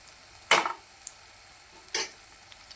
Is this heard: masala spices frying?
yes